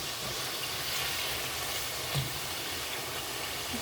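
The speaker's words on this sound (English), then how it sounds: "I'm just frying the beef." Steady broadband sizzle and hiss of beef frying in a hot pan, continuous and fairly close, with a faint clink partway through.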